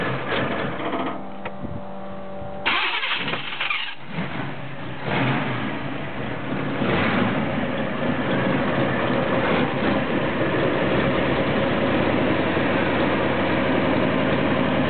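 A 1990 Pontiac Trans Am V8 starting for the first time while low on fuel, running rough at close range, then catching and revving repeatedly before settling into a steady, loud idle with no talk.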